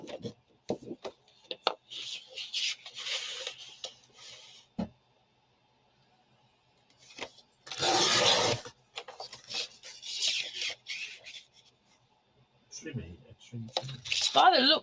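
A paper trimmer slices the bottom strip off a card mat, giving raspy scraping bursts up close, broken by pauses and passing under intermittent talk.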